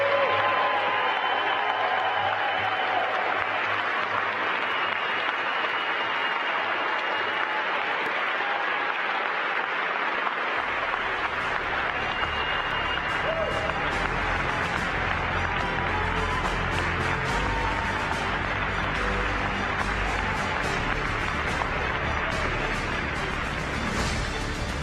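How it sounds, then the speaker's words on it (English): A large audience applauds NASA astronaut candidates at Ellington Field, sustained clapping and some cheering that swells to a dense, loud roar about halfway through and holds steady to the end. "I would like for our candidates to please stand one more time so they can get a huge round"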